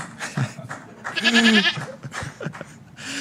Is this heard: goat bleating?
yes